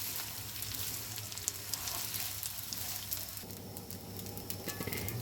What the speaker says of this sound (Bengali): সুন্দর করে ভেজে নেব চালগুলো।